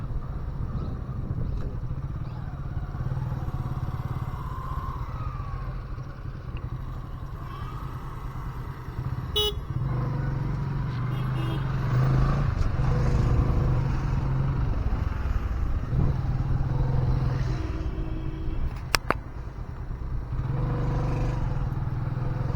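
Vehicle engines idle and rumble on a narrow forest road, with a low steady drone, occasional revving and clatter, and a brief sharp knock, all heard close throughout.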